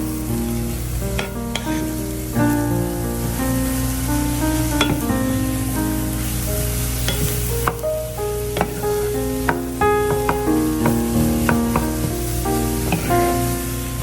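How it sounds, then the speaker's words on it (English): Egg being stirred into sausage, peppers and onions in a hot pan for breakfast egg rolls, a steady sizzle with scattered utensil scrapes, partly covered by continuous background music. "And continue to stir and combine the egg in with your sausage, peppers, and onions"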